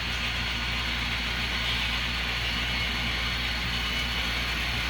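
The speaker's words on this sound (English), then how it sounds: "And we have an engine test going on." A model railroad locomotive running on a club layout during an engine test gives a steady, even motor hum with a low droning buzz, unbroken and constant throughout, with no talking over it.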